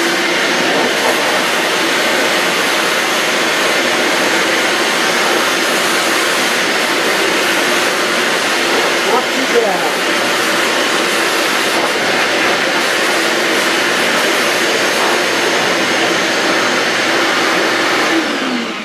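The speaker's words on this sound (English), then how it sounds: "So let's blow this thing off and see how it came out." A loud, steady air blower blasting sawdust off a freshly carved wooden sign, a continuous close broadband roar that holds nearly constant for many seconds.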